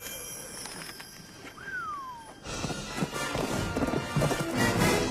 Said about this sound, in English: she took a horse and she's going after him